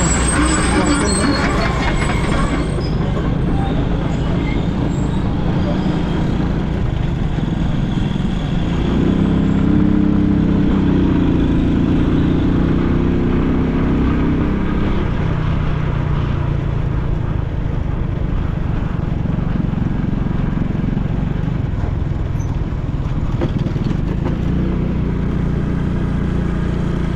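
Cars and motorcycles drive past on a road in a small town, their engines rising and fading over a steady rumble of traffic, with a heavier vehicle passing midway, close and fairly loud.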